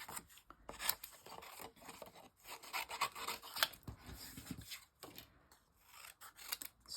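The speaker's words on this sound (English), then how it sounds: "I'm just going to cut them out with my scissors." Scissors snipping through paper in a steady run of rasping cuts, close up, with brief pauses between strokes and no talking.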